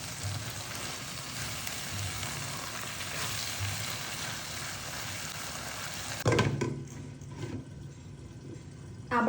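Shrimp and bala rice cook in a covered pan with a steady, bright sizzle. The lid then comes off with a clatter, and scraping stirs and metallic knocks follow against a quieter hiss.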